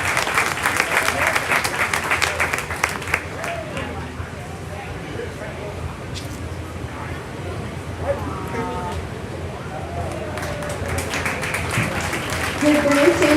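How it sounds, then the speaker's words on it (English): A county fair junior beef show crowd claps for the young exhibitors, strong applause at the start and swelling again at the end, with an announcer's voice and crowd chatter in between. "Give these kids an awesome round of applause."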